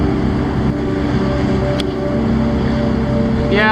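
A sailboat pitching through the rough current of Hell Gate on New York's East River, with a steady loud wash of water and wind rumble around the hull throughout.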